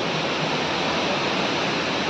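The Kondi waterfall in September roars as a large cascade, a steady broadband rush of falling water, close and continuous with no voices.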